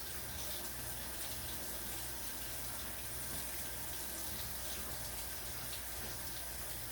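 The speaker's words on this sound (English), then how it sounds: "I'm gonna run some hot water over my honey" Hot water gushes steadily from a kitchen tap over a jar of honey, a close, continuous splashing rush with no breaks.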